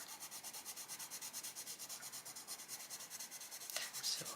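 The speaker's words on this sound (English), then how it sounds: "I'm going to go over what I've done. And it will just sort of burnish it a bit and darken it a little bit." Colored pencil burnishes and shades on paper in close, soft, rhythmic strokes, a quiet repeated scratching rub with even back-and-forth pulses.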